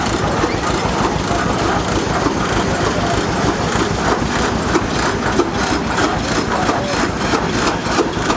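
A small steam engine runs at an outdoor steam engine show, chugging and clattering in a steady rapid rhythm with a low heavy rumble, close and continuous, with faint crowd voices behind.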